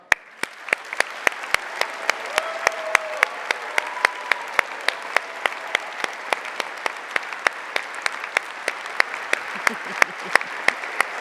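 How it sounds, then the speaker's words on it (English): A graduation ceremony audience at the University of Southampton breaks into steady applause, a continuous wash of clapping with some sharper individual claps standing out near the microphone, sustained at a fairly even level throughout. "please give yourself the biggest round of applause yet"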